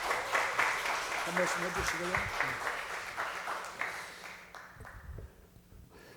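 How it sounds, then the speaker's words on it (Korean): A church congregation at a Sunday worship service in Daejeon claps to welcome a pastor to the pulpit, steady applause filling the room under a speaking voice before thinning out near the end. "박수로 환영합시다"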